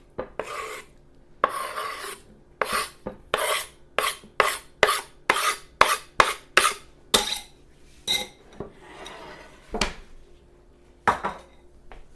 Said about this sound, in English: I'm going to juice this orange as well and add that